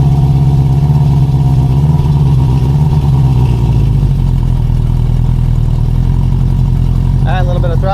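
A 1973 Honda CB350 Four engine is revved with a little throttle, its loud, throbbing note rising, then falling back to a steady, lumpy idle.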